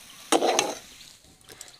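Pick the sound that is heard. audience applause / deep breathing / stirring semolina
stirring semolina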